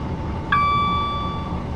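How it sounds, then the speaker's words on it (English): Class 444 passenger train on the Portsmouth to Waterloo route: a steady interior rumble runs throughout, and a clear, sustained ringing tone starts suddenly halfway through and holds to the end. "nice train, the 444, I do like it"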